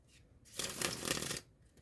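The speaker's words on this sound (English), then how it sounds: "we do this shuffle" A deck of playing cards is shuffled once for a card trick, giving a short, quiet riffle of just under a second, close by.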